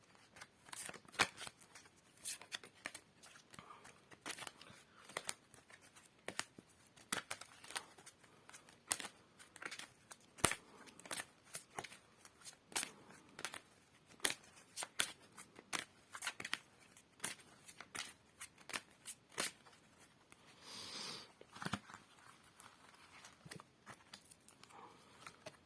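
Cards being shuffled for a card reading, a long run of quiet crisp riffling and flicking taps in an irregular fast rhythm, close up and alone.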